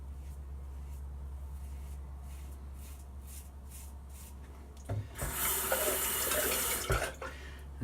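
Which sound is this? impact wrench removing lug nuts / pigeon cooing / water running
water running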